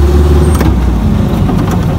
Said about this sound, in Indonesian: off-road menggunakan jeep